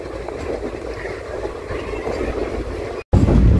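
The Silchar Express, hauled by a WDP diesel locomotive, rolls slowly toward New Alipurduar Junction with a steady, loud rumble and rattle heard from on board, broken by a brief dropout near the end.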